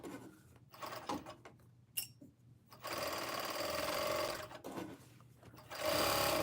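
Domestic sewing machine stitching a backless t-shirt from an indie pattern, running in steady close bursts with brief pauses between seams, the motor whirring loudly with no talking.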